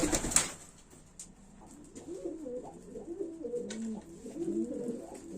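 Breeding pigeons in a loft coo softly in overlapping, rolling phrases, with faint rustles and a sharp click near the start.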